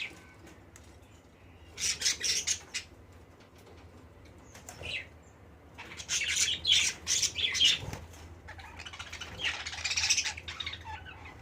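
A pair of lovebirds in a cage let out shrill squawks and rapid chirps in clustered bursts, fairly close and moderately loud, with quieter gaps between the flurries.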